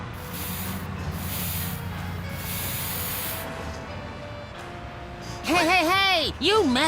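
A spray paint can hisses steadily for a few seconds in the video game Sam & Max Save the World, then a voice starts talking loudly.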